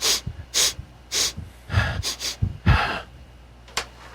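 A voice imitates a big bull loudly sniffing and heavily exhaling, a series of sharp breathy snorts and sniffs in an irregular rhythm, close and fairly loud.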